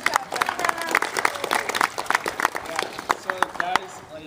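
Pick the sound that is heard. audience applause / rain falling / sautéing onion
audience applause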